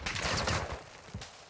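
Call of Duty: Modern Warfare 2 gunfire, a quick burst of several close shots followed by a single louder crack after a short pause, over a noisy game background.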